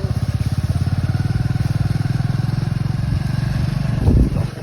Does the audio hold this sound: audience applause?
no